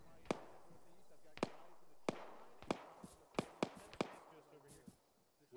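Artillery shells exploding in the ArmA military game, a series of sharp distant blasts spaced about a second apart, seven or eight in all, with faint ambient noise between them.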